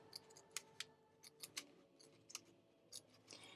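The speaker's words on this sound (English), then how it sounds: "I'm just taking my scissors and just making little triangles" Scissors snipping paper into little triangles for a fish collage, a dozen or so short crisp cuts in an uneven rhythm, close and quiet with no talking.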